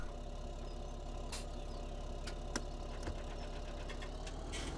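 A D8 tractor engine idles steadily and close, a continuous low rumble with a few faint clicks and ticks over it.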